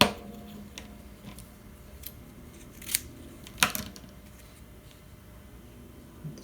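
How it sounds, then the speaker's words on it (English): Scissors snipping a piece of paper while adding tags and labels to a junk journal, a few close, sharp cuts spaced out over a quiet room. "I have to cut this piece down."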